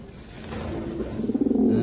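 Racing pigeons in a loft give a soft, low cooing that swells into a rhythmic, pulsing coo toward the end, close by and fairly quiet.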